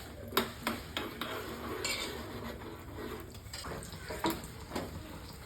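Chopped almonds and cashews frying in ghee for carrot halwa, a soft sizzle under clinking spoon-on-pan stirring and scraping, with a few louder knocks and no talking.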